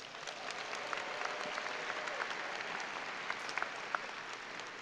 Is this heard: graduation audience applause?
yes